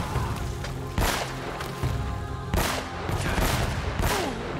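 Gunfire in the PS4 Pro remaster of the video game Uncharted, with several loud, sharp shots at irregular intervals over a dense background of game music and ambience.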